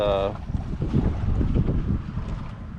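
Blustery wind at Mission Bay buffets the microphone in low rumbling gusts, with a brief tonal sound at the start and faint outdoor noise throughout.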